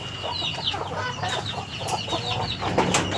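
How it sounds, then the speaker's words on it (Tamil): Old-line backyard chickens cluck and squawk close by, a busy overlapping chatter of several birds with occasional sharper calls, fairly loud and continuous with no talking. "இது நம்மளோட பழைய லைன் கோழியெல்லாம்."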